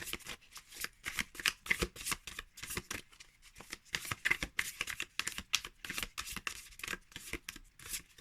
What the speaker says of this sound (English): With thinner cards, you can more easily shuffle from the long side.